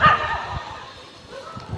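A dog barks a few short, sharp times at moderate distance, with faint background noise between the barks.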